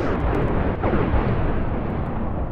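Loud, rumbling explosions from a bombing-run spell in the Minecraft Magiz Mod rip through the terrain in a continuous booming wash that slowly fades.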